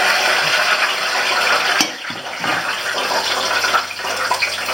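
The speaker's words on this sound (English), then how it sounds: "It will bubble up quite ferociously" Wet battered fish lowered into a deep fryer at 180 degrees, the oil hissing and bubbling vigorously in a loud, continuous crackling wash that eases slightly midway.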